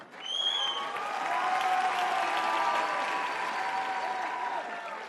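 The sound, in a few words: audience applause for Eldar and Aizhuldyz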